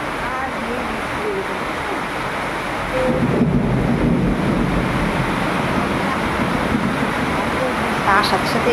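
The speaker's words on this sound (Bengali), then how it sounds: "তার সাথে সাথে বিশাল জোরে জোরে মেঘ ডাকছে" Heavy monsoon rain pours steadily in a dense hiss, growing louder partway through, while deep thunder rumbles beneath it.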